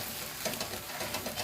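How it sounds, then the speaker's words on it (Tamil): Ragi vermicelli being stirred gently in a kadai on low heat, faint soft sizzling with light rhythmic scraping strokes. "மெதுவாக பத்திரமாக கலந்து விடணும். நல்லா கலந்து விடணும்."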